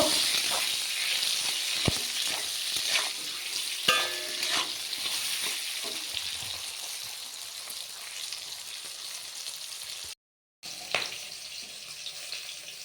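Shrimp seasoned with a little salt and turmeric frying in a pan, a steady close hiss of oil with scattered pops and occasional utensil scrapes, continuous with one brief dropout and no talking.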